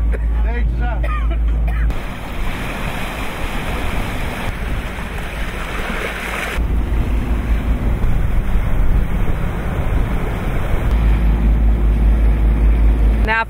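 Boat underway on the Strait of Magellan in Tierra del Fuego, its engine rumbling steadily beneath rushing wind and water noise, loud and close, with people speaking over it in places.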